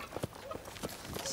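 Horses' hooves clip-clopping in a few irregular near strikes during a historical Russian film scene set around the Horde era, fairly faint against a brief busy background.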